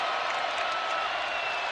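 A college basketball crowd at a Texas Tech vs Kansas State game roars steadily in a large arena, a dense wash of cheering and clapping that fills the whole moment.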